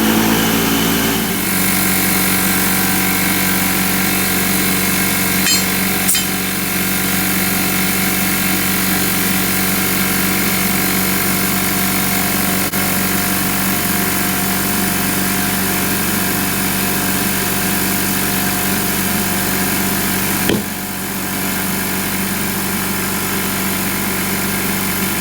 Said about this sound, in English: So I'm gonna turn the compressor on and hopefully these beads will seat.